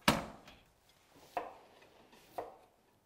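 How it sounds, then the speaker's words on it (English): Onions being chopped on a board for a Cameroonian ndole dish, three separate knife thuds spaced about a second apart, close and fairly quiet. "we're just chopping the onions"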